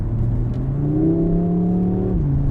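A 2022 Audi RS 3 engine revs up steadily with a rising, smooth tone, holding loud and close before dropping back briefly near the end.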